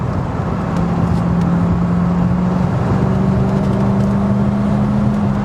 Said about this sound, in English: just that sound of the V8 is intoxicating